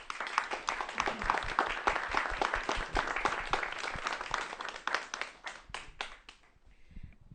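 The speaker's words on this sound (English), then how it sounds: "Can we give him one more huge round of applause, please?" An audience at a student forum with California's Attorney General bursts into sustained, dense applause, steady and loud for several seconds before thinning into a few scattered claps at the end.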